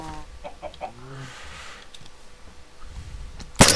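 Minecraft chickens clucking in a short burst of cackles near the start, then quiet game ambience, ending in a loud sharp noise.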